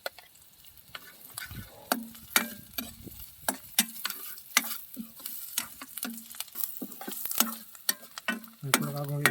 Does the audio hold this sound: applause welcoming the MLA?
no